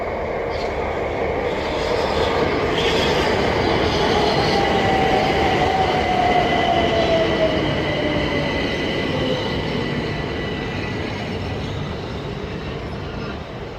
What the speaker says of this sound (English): the 1613 Southeastern service from London Victoria to Dover Priory. Formed of 375 711.